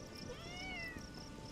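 A cat meows in the medieval survival game Bellwright, one drawn-out, quiet meow over soft background ambience.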